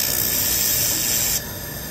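A LightWELD handheld laser welder adds filler material to a bend relief, giving a steady, loud, high-pitched hiss that runs continuously before dropping to a quieter tone near the end, with no talking.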